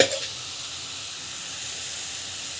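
Raw banana sautéing in a pan with chilli powder, giving a steady, even sizzle and hiss that runs throughout with no voices.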